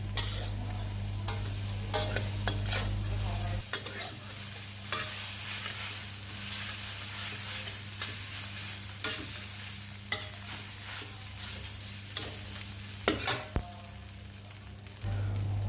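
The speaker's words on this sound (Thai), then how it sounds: "ใส่ข้าวสวย พยายามยีข้าวให้แตกเม็ด ออกจากกัน" Cooked rice stir-fried with vegetables in a pan for vegetarian egg fried rice, a steady sizzle under repeated scraping and tossing as the grains are broken apart, with a low hum that stops early on.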